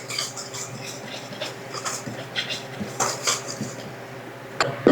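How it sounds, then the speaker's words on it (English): Dry ingredients with cornstarch whisked together in a bowl, giving soft, rapid scratchy swishes and light taps close by, with a sharper knock at the very end. "Whisk that together."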